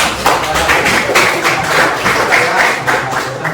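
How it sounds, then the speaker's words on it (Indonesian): A classroom audience at a teacher-training session on religious education claps together, a steady, dense patter of many hands lasting a few seconds, fairly loud and close. "berikan aplaus dulu ya"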